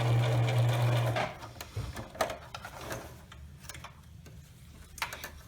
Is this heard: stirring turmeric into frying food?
no